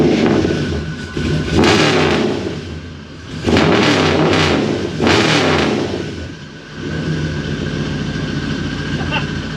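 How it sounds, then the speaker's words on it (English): A car engine revving hard into high RPM in repeated loud surges, each swelling and falling away, then settling back toward a steady idle-like drone near the end. "It gets a little loud there in the higher RPM"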